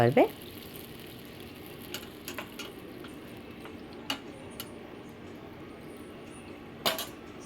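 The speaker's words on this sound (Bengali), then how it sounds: "জলটা অ্যাড করে দিয়ে আমি এটাকে আবার একটু ভালো করে নেড়ে চেড়ে নিচ্ছি" Fried fruits with added water for a fruit chutney being stirred in a pan, producing a soft continuous sizzle with occasional spoon clicks and taps against the pan.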